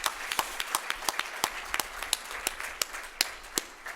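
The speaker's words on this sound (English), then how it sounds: "So I think I would suggest you give them applause." Sparse, scattered handclaps from a business forum audience in Kigali, Kenya and Rwanda delegates, sounding as separate sharp slaps at an uneven rhythm rather than a full ovation, fairly quiet and without speech.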